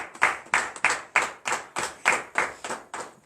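A congregation gathered for Saturday morning prayer claps in acclamation: about ten firm, evenly spaced hand claps, close and fairly loud, with no voices.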